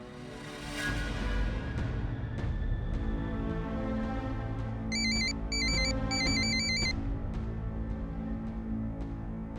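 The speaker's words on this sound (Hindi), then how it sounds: "कामनी का फोन है।" A trilling electronic phone ringtone plays in short repeated bursts over a steady bed of background music in a Hindi TV drama scene.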